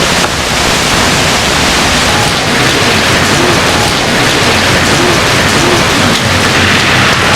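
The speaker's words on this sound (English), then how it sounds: "You see some gusts just starting right now" Hurricane wind gusts roar as a loud, dense, unbroken rush of broadband noise, steady and close throughout with no voices.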